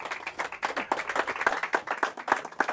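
An audience claps steadily for a few seconds, a dense patter of many hands, fairly close and without voices over it.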